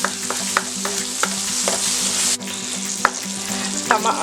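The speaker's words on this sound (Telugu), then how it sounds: "2 టమాటాస్ని ఇలా ముక్కలుగా కట్ చేసుకొని ఫ్రై చేసుకోవాలి" Chopped tomatoes fry in oil in a pan for a chicken liver curry, giving a steady, close sizzle broken by occasional sharp scrapes and taps of a stirring spoon, with no talking.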